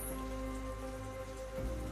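A rainy season downpour hisses steadily and evenly throughout, a dense close wash of falling rain with no voices.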